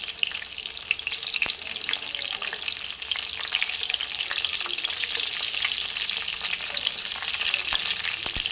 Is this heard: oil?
yes